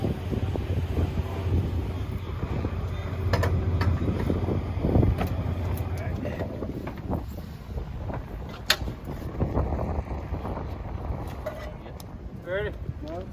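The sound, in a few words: headwind blowing on Harley test run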